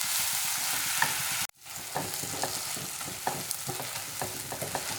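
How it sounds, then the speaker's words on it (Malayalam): Onions sautéing with ginger and garlic for a chicken curry, a loud sizzle that cuts out abruptly for a moment, then returns lighter with rhythmic spoon strokes and scrapes against the pan. "പിന്നെ ഈ സവോള നന്നായിട്ട് തന്നെ വഴന്നു വരണം"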